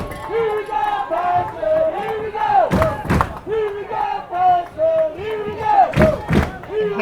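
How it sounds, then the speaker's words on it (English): Home crowd roars and chants at a women's football game, the Pittsburgh Passion against the Detroit Dark Angels, a loud sustained swell of many voices with shouted surges rising twice above the steady din. "Hear the Passion crowd"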